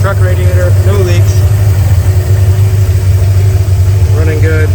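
A 1964 Ford F100 pickup engine idles with a loud, steady low rumble, close up, while someone talks over it.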